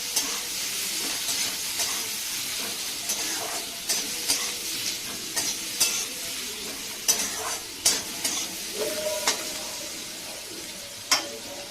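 Chopped onion fries in oil for an egg curry, a steady close sizzle broken by repeated sharp scrapes and taps of a spatula stirring the pan, with no voices.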